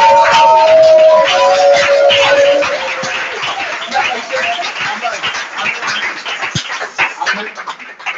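Church congregation at a worship service in Abobo applauding and cheering, a dense wash of clapping and shouting voices that starts loud, then thins into scattered claps and calls.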